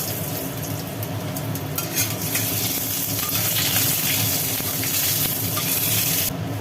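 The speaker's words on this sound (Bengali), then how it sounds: "তেলটা গরম হয়ে গেল মেথি বাবা তেলের মধ্যে পড়লো মেথি পড়লো তেজপাতা" Fenugreek seeds and a bay leaf dropped into hot oil for a vegetarian dish, giving a steady close crackling sizzle with a few small clinks as they land, no talking.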